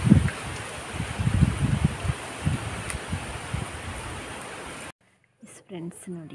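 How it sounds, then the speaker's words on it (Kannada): A strong, gusty wind rushes through trees, a loud broadband roar with surging leafy rustles for about five seconds, then it cuts out and a voice speaks briefly. "ಅಷ್ಟು ಭಯಾನಕವಾದಂಥ ಗಾಳಿ ಇವತ್ತಿನ ದಿನ."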